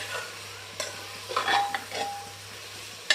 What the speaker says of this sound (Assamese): এয়া ঢাকনখন উদঙাই মই আকৌ লৰাই ল'ম